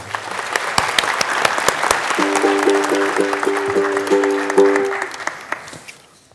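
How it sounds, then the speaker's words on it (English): An audience at an animation showcase applauds warmly while upbeat music with a repeating melody plays alongside, the clapping fading away at the end. "Can you give her a round of applause, please?"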